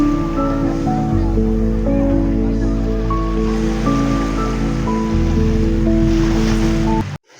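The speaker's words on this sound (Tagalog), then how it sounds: "pinagmamasdan ang kagandahan ng dagat" Ocean surf rolls in steadily at a beach, a continuous broad wash of breaking waves with a tonal music bed running underneath until it cuts off near the end.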